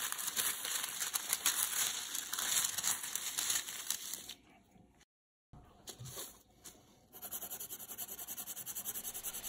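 Sheets of sketch paper crinkle and rustle steadily and close, then briefly go quiet before the rustling resumes.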